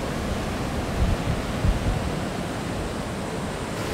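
Ocean waves wash onto a Costa Rica beach in a steady, broadband roar, swelling slightly midway. No voices are heard.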